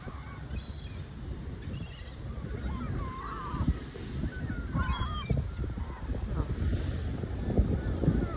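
Geese honk repeatedly among pigeons while a woman feeds them outdoors, calls rising over steady wind noise and background murmur at moderate distance.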